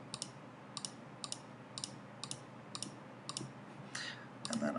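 Sharp, quiet mouse clicks at a steady, unhurried rhythm, mostly single and double presses, while sketch areas are selected in CAD software, close and alone with faint background hiss and a brief shuffle near the end.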